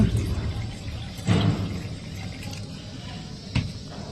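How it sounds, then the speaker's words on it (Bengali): Water is poured into a cooking pot of vegetables, a steady moderate rush and splash with a couple of brief louder bumps. "জল দিয়ে দিচ্ছি"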